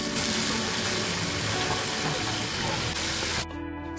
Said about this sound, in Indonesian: baru tumis bawang merahnya hingga harum